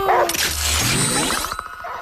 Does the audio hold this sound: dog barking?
yes